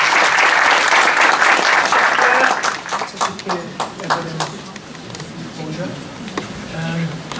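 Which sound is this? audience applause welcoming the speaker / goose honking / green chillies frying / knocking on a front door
audience applause welcoming the speaker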